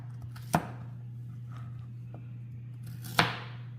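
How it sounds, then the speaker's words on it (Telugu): Peeled carrots chopped into pieces on a board, two distinct knife strikes a few seconds apart over a low steady hum, with a faint tap in between. "పీల్ తీసాక ముక్కలు కోసుకోవాలి."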